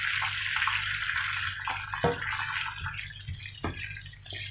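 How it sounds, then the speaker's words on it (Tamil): Water poured from a cup into roasted rava (semolina) for Tamil-style upma, a steady bright rush of liquid with a few soft drips and splashes, close and fairly quiet, with no talking. "ஸோ நான் 1 கப் தண்ணி வந்து ஊற்றுறேன்."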